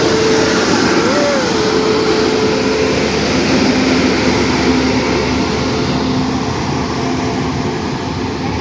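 Interior of a moving long-distance passenger train from Kerala to Delhi, a constant loud rumble and rattle of the carriage with a faint tonal hum drifting through, no clear speech.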